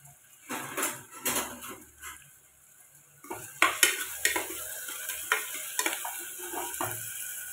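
Finely chopped onion dropped into hot oil for village-style mutton curry, bursts of sizzling mixed with metal utensil scrapes and clinks against the pan, close and uneven.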